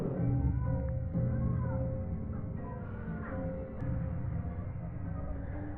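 Cats meowing during a scene in the film Batman Returns, several overlapping cries mixed into a dense, steady bed of movie music and sound, moderately loud throughout.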